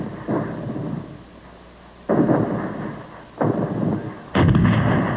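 Heavy artillery guns from a war documentary fire in repeated booming blasts, three or four loud reports spaced a second or so apart, each trailing off into a rolling rumble with no voices.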